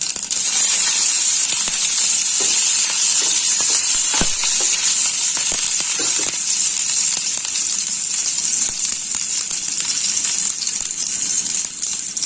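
Mustard seeds and green chillies sizzle in hot oil with a loud, steady hiss, broken by a few sharp pops and crackles.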